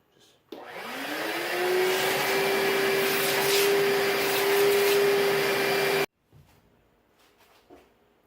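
A vacuum cleaner switches on, spins up to a steady loud whine and drones for several seconds before cutting off abruptly, followed by faint handling noises.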